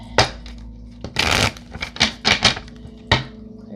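Tarot cards shuffled by hand during a psychic reading, giving a burst of crisp papery riffling followed by several short, separate slaps and flicks of cards, close and alone without talk.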